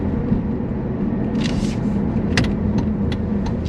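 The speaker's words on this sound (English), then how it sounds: "We're driving back into town." A car drives back into a small Wisconsin town, its steady engine and road rumble holding throughout, with a few faint clicks and a brief brighter hiss partway through.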